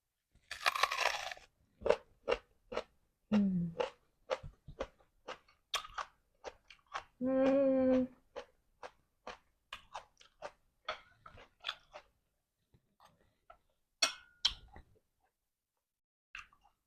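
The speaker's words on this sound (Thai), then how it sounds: "หอมหัวใหญ่สีขาวค่ะ เดี๋ยวลองชิมก่อนว่ามันเป็นรสชาติยังไง" Raw white onion being chewed close up, a long series of crisp crunches in an uneven rhythm, with brief vocal sounds between bites and no talk.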